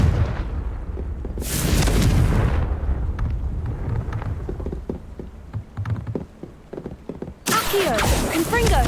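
Confringo fire spell blasts in the Hogwarts Legacy video game, loud booming bursts with crackling, rain-like debris and rumble, two sharp eruptions standing out over a continuous noisy background.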